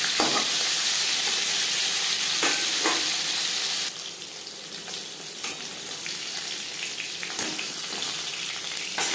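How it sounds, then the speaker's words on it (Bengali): Pieces of katla fish fry in a pan with a dense, crackling sizzle that drops somewhat quieter about halfway through, then carries on steadily and close by, with no talking. "একটা সাইজ ভেজে নেওয়ার পর অপর সাইডটা উল্টে দেবে"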